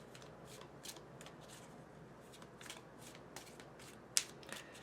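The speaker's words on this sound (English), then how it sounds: "Let's pull 3 outcome cards." Tarot cards are drawn and shuffled from a deck: quiet papery slides and flicks at irregular intervals, with one sharper snap near the end, faint and close in a hushed room.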